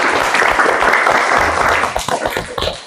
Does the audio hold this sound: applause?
yes